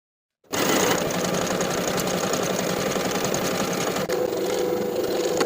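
A sewing machine edge stitches along the inner fold of a shirt dress placket, running steadily and continuously from start to finish after a brief silence, close and fairly loud with no talking.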